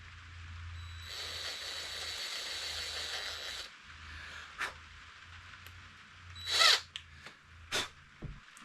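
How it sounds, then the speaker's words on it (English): A power drill whirs steadily for a few seconds drilling holes into a small boat's hull for cleats, stops, then short clicks and bursts of tool noise follow. "I'm going to drill the holes into the boat"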